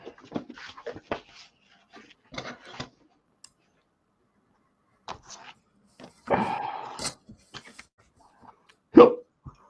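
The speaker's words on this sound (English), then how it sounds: "Oh, hiccups." Hiccups from a person, a few sharp isolated bursts scattered among quiet rustles and small knocks, one louder hiccup near the end, with no clear speech.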